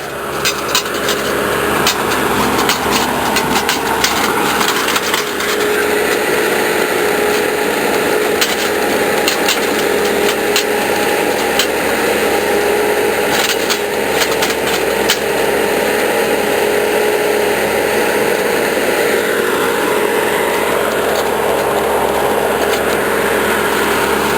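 A Ditch Witch machine grinds steadily as it digs planting holes through old tree roots, a continuous engine-driven rumble with scraping and rasping bursts throughout.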